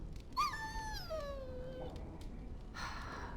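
A dog in the video game Dragon Age gives a single drawn-out whimper that slides downward in pitch, fairly close over quiet ambient noise, followed by a faint brief rustle.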